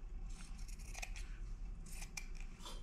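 Scissors snip through the selvage edge of a 5-by-21-inch piece of fabric, a run of close, crisp cutting strokes with steady shearing texture throughout.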